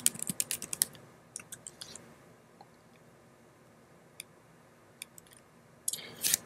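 A user ID and password are typed on a computer keyboard while a Foscam FI9826P wireless IP camera is being set up. A quick burst of soft, close key taps is followed by sparse single keystrokes in a quiet room, with no voices.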